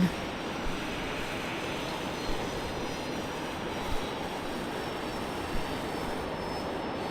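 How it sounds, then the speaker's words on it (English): A Fokker 70 airliner arriving at Brisbane Airport produces a steady, broad jet roar heard from a distance, holding a fairly constant moderate level without distinct peaks. "Arriving one left is another Fokker 70 in from Adelaide."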